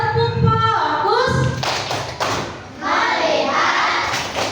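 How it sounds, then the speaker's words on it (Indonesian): A school class doing a rhythmic focus clap (tepuk fokus), several sharp claps and thumps in a pattern interleaved with children chanting along together. "Sebelumnya yuk semuanya tepuk fokus."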